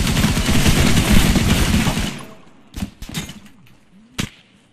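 Gunfire in the Arma Exile military video game, a dense rattling burst of automatic fire for about two seconds, then several sharp separate shots sounding more distant.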